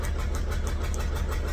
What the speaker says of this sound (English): the pony motor wasn't firing on all cylinders